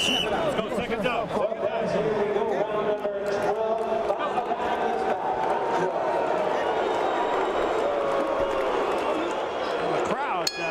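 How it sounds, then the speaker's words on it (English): Restless crowd at a professional boxing match before the twelfth and final round, a loud continuous roar of voices and murmuring with a commentator talking over it. "The crowd very restless"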